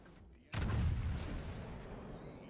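A single loud naval gun shot in a warship video game, a sudden heavy boom that rolls and decays slowly over two seconds.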